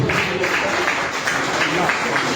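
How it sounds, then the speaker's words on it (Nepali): An audience claps to welcome the chief guest at a ceremony. Dense, steady applause fills the space, with crowd noise mixed in. "जोरदार तालीको लागि उहाँलाई स्वागत गर्छु"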